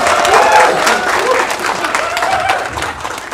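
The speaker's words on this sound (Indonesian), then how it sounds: "Sekali lagi dong tepuk tangan untuk SMP Pancasetia 1 ya." An audience applauds at the closing event of a temporary exhibition of Sintang traditional weapons, a steady wash of clapping heard under a speaker's amplified voice.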